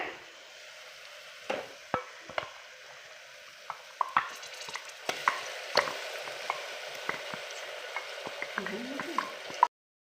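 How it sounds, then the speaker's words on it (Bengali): Onion and spice paste sizzles steadily in a pan for a soya bean curry while a spatula stirs it, with frequent scraping clicks and knocks against the metal throughout, close and fairly quiet. "দিয়ে ভালো করে নেড়ে নেবো, কষে নেবো ভালো করে"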